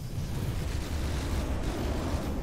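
Missiles explode in a video game battle as a dense, continuous roar of blasts and rumbling, loud and sustained throughout with no clear pauses.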